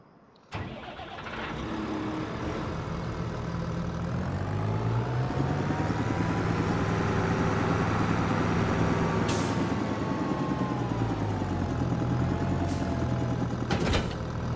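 A tractor engine in Farming Simulator 25 catches abruptly at the start, then settles into a steady, loud, close mechanical drone whose pitch rises and dips slightly. A few faint clicks sit on top.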